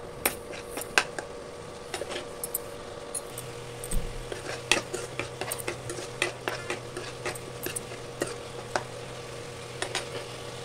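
Masala for a spiced vegetable curry of snake gourd being stirred and fried in a pan, with repeated close scraping and clinking of a spoon against metal over a faint steady sizzle.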